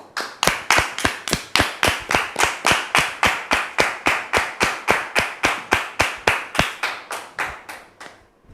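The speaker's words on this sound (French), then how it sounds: "Nous le recevons sous vos applaudissements," Steady, regular clapping from a studio audience welcoming a guest onto a talk show set, loud, close and rhythmic, about thirty even claps, with no talk over it.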